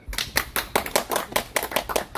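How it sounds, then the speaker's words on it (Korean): A small group claps for a tour guide's explanation of Baekje-era art in Seosan, South Chungcheong: close, crisp handclaps in a quick, uneven rhythm, loud, with no talk over them. "아니, 박수까지."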